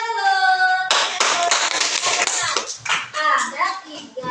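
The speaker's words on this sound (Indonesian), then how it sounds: "Tepuk tangan dulu." Children clap their hands in a classroom: after a sustained sung note, a burst of close, crisp clapping starts and continues unevenly, mixed with children's voices.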